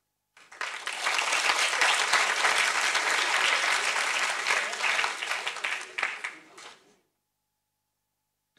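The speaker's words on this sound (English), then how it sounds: "For those of you who spontaneously applauded Amnon Shashua" Sustained audience applause at a prize laureates announcement, rising quickly, holding dense and steady for about six seconds, then tapering off into silence.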